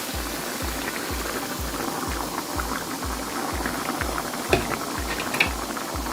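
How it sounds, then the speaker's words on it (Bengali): Hot water, a litre, poured into a pan of frying rice for Turkish Baldo rice, making a continuous loud sizzling, bubbling rush with a rhythmic low churning pulse underneath and no talk. "এখন এটাকে দিয়ে দিচ্ছি গরম পানি 1 লিটার"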